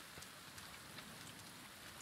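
Steady rain in the survival video game The Forest, set in an island forest: a continuous even hiss of falling drops with no talk over it.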